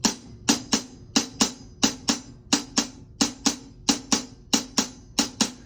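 A drum kit plays a bouncy shuffle groove, steady paired hits with crisp cymbal or snare accents repeating evenly, close and clear with no talking.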